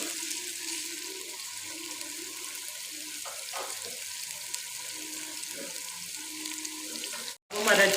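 Chicken and rice frying together in a pot for chicken biryani, making a continuous close hiss and sizzle at a steady level, with a few faint knocks and a brief drop near the end.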